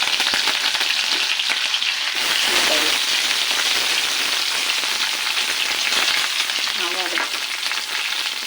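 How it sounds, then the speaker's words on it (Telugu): Tempering spices such as cumin sizzle and crackle steadily in hot oil for dal, a close, continuous frying hiss with occasional stirring sounds. "ఇందులో మనం పప్పుకు తాలింపు దినుసులు వేస్తాం"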